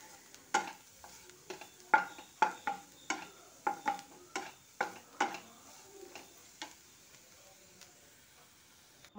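Shredded cabbage and grated coconut being stir-fried for a Kerala thoran, a steady series of scraping stirs and soft taps of a spatula in the pan over a faint sizzle, no voices.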